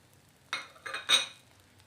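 Vegetables are added to a pot of sambar rice and stirred in, giving three short, close clatters of a spoon and scraping against the pan with brief pauses between them.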